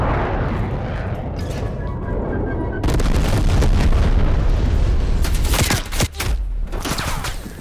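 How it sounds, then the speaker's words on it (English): Napalm strike explosions in Call of Duty: Black Ops Cold War multiplayer, a loud rolling barrage of booms and roaring fire that swells and bursts repeatedly, with sharp blasts near the end. "Napalm strike incoming"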